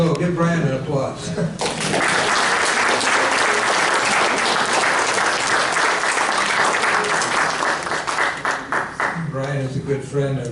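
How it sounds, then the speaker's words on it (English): A dense, loud round of audience applause for a questioner at a peace activist's talk swells and holds for several seconds, with talking before and after it. "So give Brian an applause."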